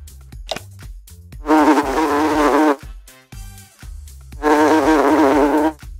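A housefly buzzes in two loud, steady bursts, each lasting about a second, separated by quieter gaps with faint fluttering.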